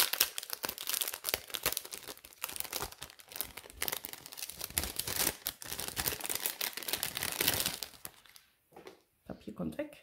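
Paper packaging crinkled and crumpled while a board game is unpacked: a dense run of rustling, crackling bursts close by, loudest in the first half, thinning out near the end, with a voice now and then.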